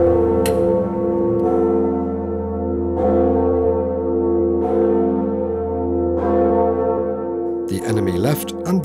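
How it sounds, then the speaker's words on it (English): Large church bells of the Cathedral of Saints Peter and Paul in Brno peal loudly and steadily, with repeated strikes and long humming overtones that ring on, and a brief burst of other noise near the end. "The bells of the Cathedral of Saints Peter and Paul ring noon as early as 11 o'clock every day."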